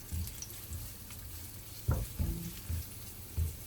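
Ingredients for pansit sotanghon sauté in a pan with a soft, low sizzle, punctuated by a few close utensil knocks and stirring scrapes.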